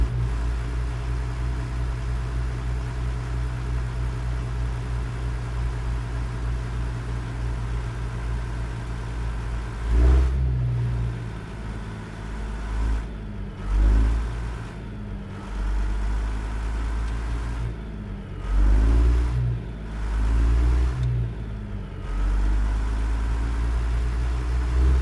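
A Peterbilt 389 truck with a fault sits idling, its low diesel rumble steady and close for about ten seconds before a series of short revs swell and drop in uneven bursts.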